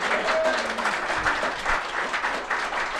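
Audience applause at the close of a live recording of The Week Unwrapped, a steady wash of clapping from a room full of people that holds for the whole stretch at an even level.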